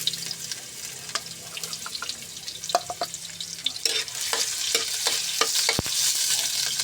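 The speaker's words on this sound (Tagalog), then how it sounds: "Medyo mapasunan na talaga yung mainit na yung ating kawali, kaya nilagay ko na agad yung ating mantika." Cooking oil sizzles in a hot wok for chicken adobo, a continuous frying hiss that grows fuller toward the end, broken by scattered clicks and taps of a utensil against the pan.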